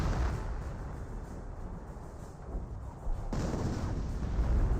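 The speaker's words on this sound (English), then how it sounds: "Another 25 pounder barrage there, getting some damage on these light vehicles" A 25 pounder artillery barrage in Company of Heroes rumbles as dense, overlapping low booms and crackling blasts, continuous and loud, building slightly toward the end.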